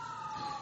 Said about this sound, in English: Y'all hear them sirens out there?